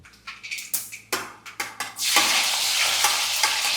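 Mustard seeds drop into hot oil in a Kerala kitchen, first a series of sharp ladle taps and clinks, then a loud, continuous sizzling crackle close by.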